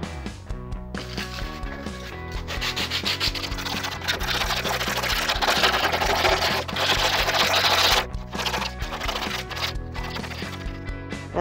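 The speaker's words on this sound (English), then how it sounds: "finished with the sanding" Hand sanding rounds off the edges of a wooden toy dagger modeled on a Skyrim iron dagger, giving steady back-and-forth rasping strokes that swell louder in the middle, heard close, with background music playing underneath.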